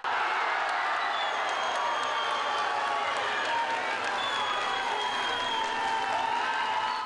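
A hall crowd gives an ovation at a European Cup judo competition: loud, continuous clapping and cheering fill the space with whoops over the roar, while a voice talks over it.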